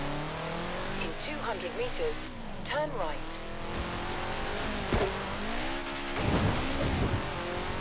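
A car in the Forza Horizon 4 battle royale video game drives over rough ground, its engine rising and falling with tire noise and brief revs, while people talk over it throughout.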